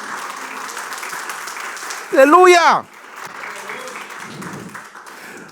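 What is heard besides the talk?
congregation applause in church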